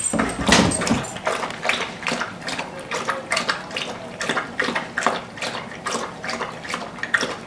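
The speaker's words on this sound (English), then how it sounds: "We're licking the bottom of the bowl now." Rapid, rhythmic wet lapping as a dog laps water from a bowl, quick repeated splashy licks close by.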